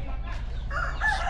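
Backyard chickens, a rooster among them, give a short burst of crowing and clucking over steady low farmyard noise, fairly close and moderately loud, with no talk.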